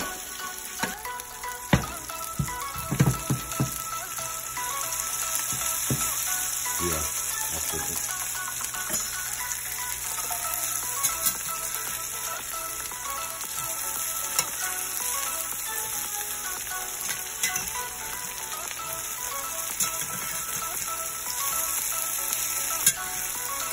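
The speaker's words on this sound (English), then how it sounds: "Cook okra for a few minutes or until it's golden brown." Buttermilk-coated okra fries in a pan with a continuous soft sizzle, broken by occasional faint scraping and stirring clicks, with no talking.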